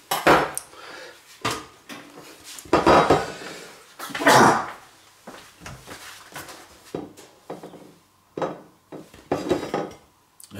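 A plate handled while filling strawberry choux pastries with cream: a series of close, sharp clinks and knocks of dishes and cutlery, irregular and spaced out, with quieter scrapes in between.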